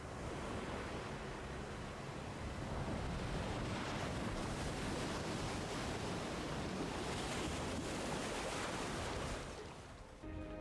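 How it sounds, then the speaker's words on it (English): Waves crash onto the Normandy beach in a Saving Private Ryan scene, a dense, continuous roar of surf and wind that stays loud and steady throughout before tapering slightly at the very end. "we hear the waves crashing on the beach"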